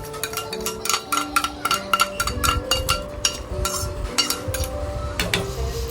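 A utensil clinks and scrapes against a metal pot in quick, irregular strokes, close and fairly loud, with a low bubbling underneath, as vermicelli is stirred into a boiling chicken dish.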